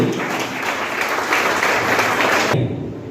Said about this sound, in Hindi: दिल खोल के तालियां बजाइए।